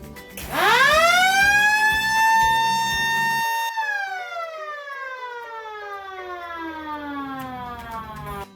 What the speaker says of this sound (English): With programmable timer to siren will sound at specified time that it is programmed.